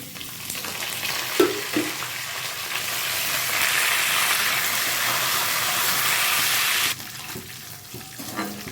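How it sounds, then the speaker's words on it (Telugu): Curry leaves and peanuts fry in hot oil with a loud, steady hiss that swells and cuts off abruptly, followed by quieter clatter from the pan. "ఇప్పుడు కరివేపాకు కూడా ఫ్రై అయింది"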